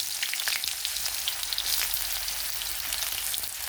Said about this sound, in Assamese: আৰু মোৰ পিঁয়াজখিনি ভজা হৈ গৈছে